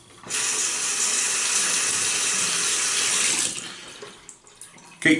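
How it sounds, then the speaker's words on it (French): Tap water runs steadily into a sink for about three seconds while a synthetic shaving brush is wetted for a traditional shave, then cuts off, followed by faint handling clicks. "on va commencer pour mouiller la brosse."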